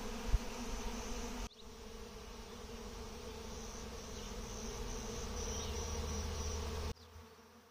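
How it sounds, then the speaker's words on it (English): Steady, dense buzzing from many honey bees at the front of a hive, continuous and fairly loud, with a low droning hum underneath and no voices. "There's a lot of activity at the front of the hive."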